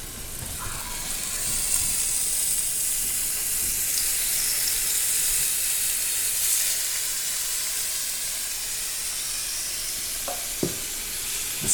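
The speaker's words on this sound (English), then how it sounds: "The sizzle is good." Food sizzles steadily in a hot pan, a bright continuous crackling hiss with a few brief clinks, and no one speaking.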